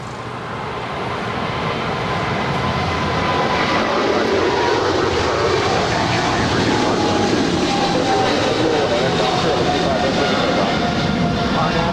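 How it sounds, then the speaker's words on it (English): China Southern Cargo Boeing 777 freighter on its takeoff roll down runway 25 left at LAX, a loud steady broadband jet engine roar that builds in the first seconds and then holds, heard from the airport edge. "the 777, China Southern Cargo, 777 now rolling down 25 left"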